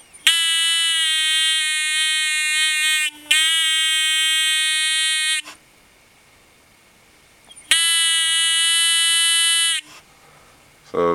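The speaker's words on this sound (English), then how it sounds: "the buzzer will go off" A loud electronic buzzer in a phototransistor light detector circuit sounds in three sustained bursts, two long ones back to back, a pause, then another, harsh and steady in tone.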